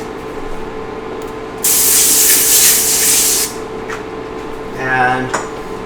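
A spray bottle gives a steady hissing spray-down of about two seconds during nacho preparation in a home kitchen, loud and close, followed by a short rubbing or scraping noise.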